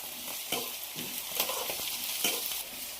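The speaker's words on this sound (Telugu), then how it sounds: "సో ఇవన్నీ మంచిగా ఏగేదాకా వేయించుకోవాలి" Fenugreek leaves and other ingredients fry in a pan for prawn curry, a close, steady sizzle broken by regular scraping stirs every half second or so, with no voices.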